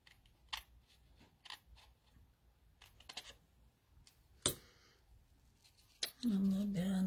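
Scissors trim fabric on a daffodil-themed quilting or craft piece in a few short, crisp snips spread across a quiet room, with a faint rustle and one louder snip near the end.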